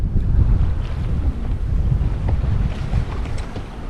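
A sailboat moves through the Swedish archipelago, with steady, loud wind buffeting the microphone and a low rush of water, continuous throughout and no voices.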